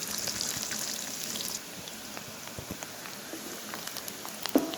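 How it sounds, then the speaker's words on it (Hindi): Onions fry in a pan with a continuous close sizzle and crackle, a little louder for the first second and a half and then steadier, with faint pops scattered throughout. "प्याज शामिल करेंगे और इसे हल्का सा भून लेंगे"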